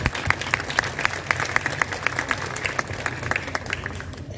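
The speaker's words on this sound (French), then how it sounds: "Applaudissez-la à nouveau" A school audience applauds steadily at an academic year opening ceremony, many hands clapping in a dense, even patter that holds for several seconds before thinning slightly at the end.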